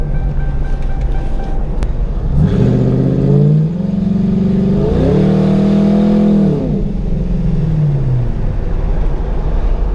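A Ford Crown Victoria engine revs up in a couple of rising surges while accelerating, with sharp pops and backfires crackling through, loud and close with no talking.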